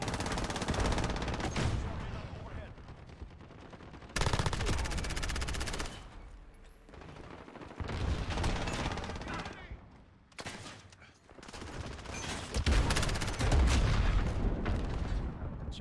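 SMG fire in Call of Duty: Modern Warfare rattles in long, loud, sustained bursts separated by short pauses, with heavier booms mixed in and a voice speaking faintly underneath.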